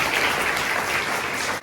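School students at a girls' school applaud loudly and steadily at a motivational talk, a dense continuous wash of clapping that fills the short moment before trailing off.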